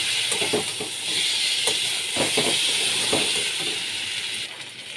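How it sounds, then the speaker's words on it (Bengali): Katla fish pieces frying in a pan of cooked-down spices, a close steady sizzle and hiss with soft stirring scrapes throughout, fading slightly at the end. "মাছগুলো দিয়েও আমি ভালো করে কষিয়ে দিচ্ছি।"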